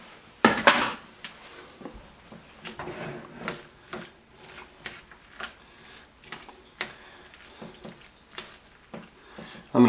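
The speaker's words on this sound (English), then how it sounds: "Now we add our pasta." Half a box of dry pasta going into a pot for jalapeño popper mac and cheese, heard as close, irregular clattering knocks and rattles over a faint background sizzle.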